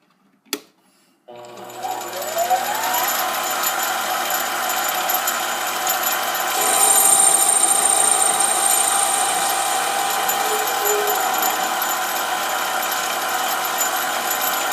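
Mini lathe taking a fine cut on a small part, removing ten thousandths per pass: a steady, loud mechanical whir with a constant high whine that starts after a brief click and runs unbroken, no talk.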